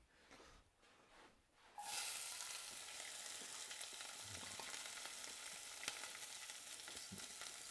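Toasted breakfast food in a hot pan breaks into loud, steady sizzling that starts abruptly and then holds as a continuous hiss, with light stirring clicks underneath and nobody talking.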